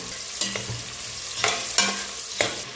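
Onions and three green chillies sautéing in oil for white kuska, a close frying sizzle broken by four crisp stirring scrapes of the spoon against the pan, no voices.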